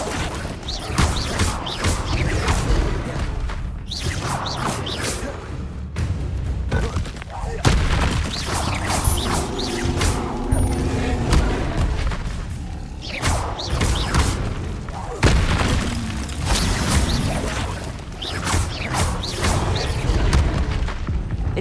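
Repeated Incendio fire spells in Hogwarts Legacy on hard difficulty: loud booming bursts and clattering impacts in busy combat, with voices heard amid the near-constant blasts.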